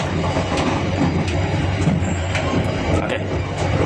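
Pasundan New Generation passenger train rolling on rails, a loud, constant low rumble with faint rhythmic clicks and rattles, heard from inside a carriage, no speech.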